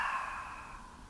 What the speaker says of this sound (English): exhale with a ha, ha from the mouth